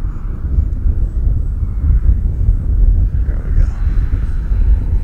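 An Arrows Husky RC airplane, the 4S version, drones faintly as it flies at an open field, mostly buried under loud, gusty wind rumble.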